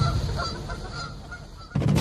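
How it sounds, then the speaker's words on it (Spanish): Geese honking loudly, harsh nasal calls repeating with a burst of stronger honks at the end, close and agitated. "nunca subestimes a ningún ganso con rabia"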